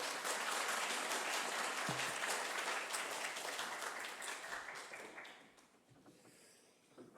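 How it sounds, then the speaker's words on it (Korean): Hall audience applause welcomes a pastor to the stage at a church mission conference, brisk clapping that holds steady for about five seconds, then thins out and fades to near quiet. "박수로 환영해 주시면 감사하겠습니다"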